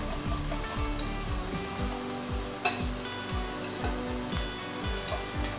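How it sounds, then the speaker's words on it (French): Bacon lardons sizzle steadily in a pan, a continuous close frying crackle with a rippling stir-like texture throughout and no voices. "Les lardons cuisent tranquillement."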